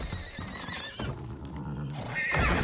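A horse in the survival video game Icarus neighs in strained, wavering bursts at the start and again near the end, moderately loud over constant in-game background noise.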